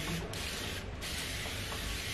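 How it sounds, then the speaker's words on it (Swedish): A facial mist of spring water, chilled in the fridge, sprays onto a face in two quick hissing bursts, the second longer, close and alone with no talking. "Om man har satt in den här i kylskåpet och sen sprayar på ansiktet."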